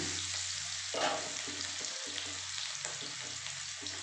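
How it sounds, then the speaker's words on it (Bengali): Chopped onion frying in hot oil in a home kitchen pan, a steady close sizzle running throughout with a brief louder burst near the start and occasional stirring scrapes. "পেঁয়াজটা একটু ভাজা ভাজা হয়ে যায়"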